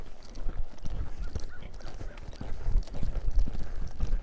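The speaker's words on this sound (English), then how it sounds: "Same thing with his canter here." Horse hooves at a canter during a collection training session, a loud, rapid, irregular clip-clop of footfalls close by, continuing throughout.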